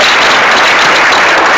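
A seminar audience applauds, a dense, loud wash of many hands clapping together without a break.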